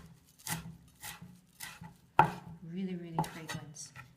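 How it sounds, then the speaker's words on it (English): Flat-leaf parsley chopped with a knife on a board: a series of soft, crisp blade strikes in an irregular rhythm, close and fairly quiet, with a brief scrape of the knife partway through. "Now let's chop the flat leaves parsley for the final touch"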